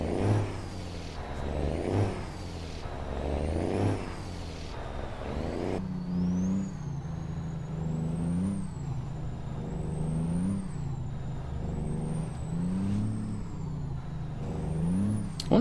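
An old school truck in American Truck Simulator, driving in winter: a diesel engine revs up and drops repeatedly through gear changes, with a steady rising whine and rumble close up, and no voices.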